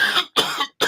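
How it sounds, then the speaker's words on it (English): Three short, sharp coughs in quick succession, close by and fairly loud. "sorry, I have to cough"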